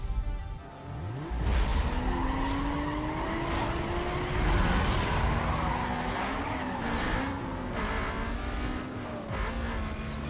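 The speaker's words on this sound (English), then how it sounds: "The nitrous gives you that great launch" A car in Need for Speed Most Wanted launching hard with nitrous, a loud close engine surge rising through gears amid tire squeal and other cars' engine roar.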